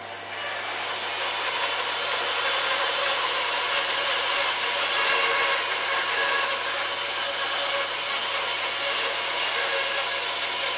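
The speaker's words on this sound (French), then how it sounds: "Sur la scie à ruban, une lame avec un pas important." Band saw fitted with a coarse-pitch, mini-sawmill-style blade ripping wood planks from thick 70x220 timber, a loud continuous close grinding roar that holds steady throughout with no voices.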